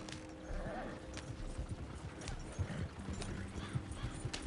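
Horses galloping in Red Dead Redemption 2, a steady run of hoofbeats over a continuous background rumble, with low voices now and then.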